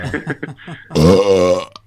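A loud, drawn-out burp from a man, rumbling for nearly a second, follows a stretch of conversational talk and ends with a short voiced trailing sound.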